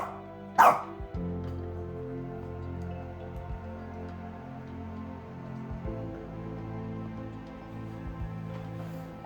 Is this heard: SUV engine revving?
no